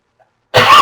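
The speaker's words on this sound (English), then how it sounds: "I'm handling a cough here for my allergies" A single sharp cough bursts out loud and close after a moment of near silence, from a man whose cough is blamed on allergies.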